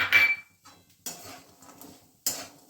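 Pistachios tipped into a pan and stirred while making sugar-free date and dry fruit laddoos, giving a bright clatter of nuts against metal followed by two further short scraping, rattling bursts, close and alone.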